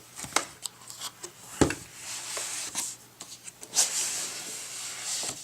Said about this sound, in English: I'm just going to cut the seal up here.